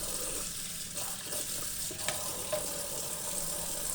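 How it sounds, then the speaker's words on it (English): Tap water runs steadily over a removable Whirlpool dishwasher filter (model WDT790SLYM3) in a sink, a continuous close rushing splash with small shifts as the part is moved under the stream. "We're going to take that water and run it over the entire component of this filter here."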